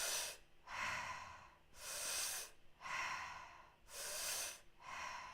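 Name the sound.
mouth breathing, sipping breath as through a straw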